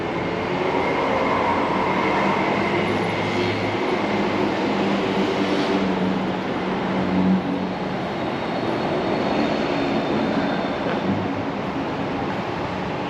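A steady, continuous rumble of a train at Bangkok railway station, with a broad low mechanical roar and faint squeals, no talking.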